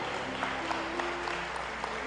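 Congregation applauding during a Sunday church service, a steady wash of clapping with occasional sharper claps over a low sustained tone, moderately quiet and somewhat distant.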